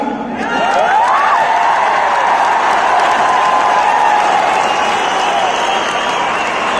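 Loud, sustained applause from a large crowd at an award ceremony, steady clapping with some cheering mixed in throughout.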